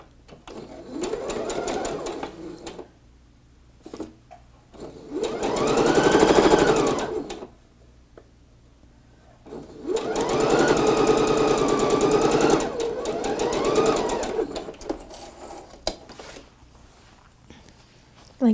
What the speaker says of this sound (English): you're going to sew a 1/4 inch seam